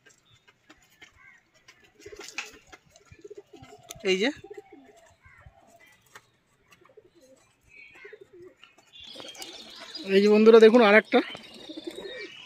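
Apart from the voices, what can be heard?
pigeons cooing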